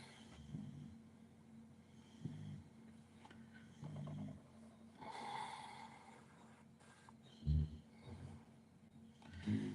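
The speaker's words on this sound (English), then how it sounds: "Speaking of dogs, as you can see, mine snoring in the background." A dog snores faintly in the background indoors, with low rhythmic snorting breaths recurring every couple of seconds over a quiet room.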